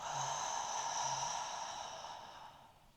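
Breath is exhaled slowly through the nose and mouth during a Pilates breathing exercise, a close, soft airy rush that fades out over about three seconds, with two faint low snorts near the start.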